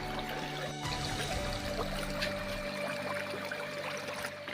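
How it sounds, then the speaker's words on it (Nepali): Water rushes steadily along an irrigation channel feeding farm fields, a continuous close hiss and gurgle with no voices. "खेतीमा जाने कुल्लो सरर पानी बगिरहेको छ"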